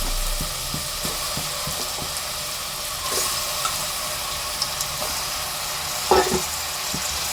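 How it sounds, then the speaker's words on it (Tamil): Mutton pieces dropped into a hot pan for Tamil mutton kulambu, followed by a steady sizzle and frying hiss with repeated clinks and scrapes of a spoon stirring, plus a brief louder clatter near the end. "மட்டன் எல்லாத்தையும் போட்டுக்கிறேன்"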